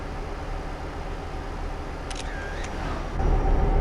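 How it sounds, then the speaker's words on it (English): A single camera-shutter click from a Steam screenshot stands out over a steady truck engine drone and road noise while a truck is driven in Euro Truck Simulator 2. "has Steam decided to put screenshot sounds back on?"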